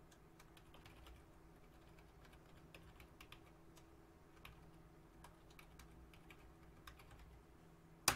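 Steady, quiet typing on a computer keyboard, with a continuous run of light key clicks and no talking.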